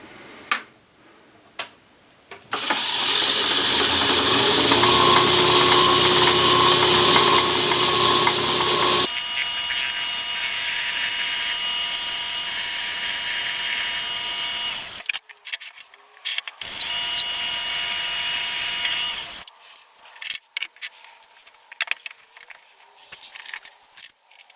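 A Myford ML7 metal lathe facing and centre drilling a steel workpiece: loud, steady machining noise for several seconds, then a softer whirring run, with brief clicks and knocks before and after.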